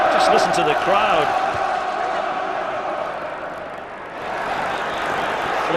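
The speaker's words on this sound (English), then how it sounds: "Just listen to the crowd." Football crowd at a West Ham versus Everton match, a dense continuous roar of many voices that swells and dips briefly before rising again, with a commentator's voice heard over it at the start.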